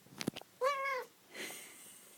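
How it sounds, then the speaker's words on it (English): A house cat nearby lets out one clear, drawn-out meow after a few small clicks and rustles, followed by a softer, breathier sound, with no talking over it. "listen to him meow at you"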